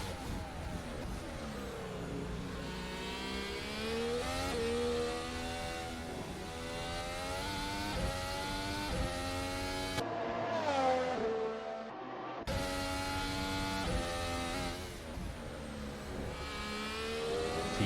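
Race cars in Assetto Corsa roar steadily through a Grand Prix, engines whining up and down through the gears as they push hard through corners, with a brief quieter dip in the middle before the loud pack noise returns.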